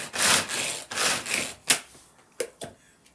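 A knife coarsely chopping nuts on a cutting board for a tartlet base: a few rough scraping strokes, then several sharp, close taps of the blade hitting the board, with no talking.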